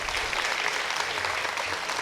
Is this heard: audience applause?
yes